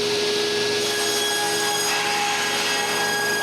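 A woodworking machine runs through a mahogany board, giving a loud, continuous close-up whir and roar with a steady tonal hum, no voices.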